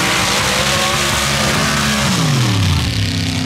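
Heads-up drag race cars accelerating hard toward the finish line, a loud sustained engine roar with a falling pitch sweep as they pass near, no talk.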